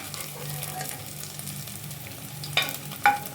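Paneer fries in a spoonful of oil in a pan, a gentle steady sizzle that continues throughout, followed by a couple of crisp clinks of a utensil near the end.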